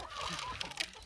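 Chickens clucking and fowl calling on a small countryside farm where geese are also kept, a dense close flock sound with short sharp calls poking out near the end.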